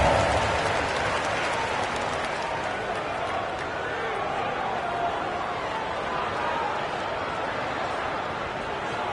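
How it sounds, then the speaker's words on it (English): Steady crowd applause and cheering in the basketball video game NBA 2K25 on PS5 fills the whole stretch, a dense wash of clapping at moderate volume with no pauses. "Round of applause."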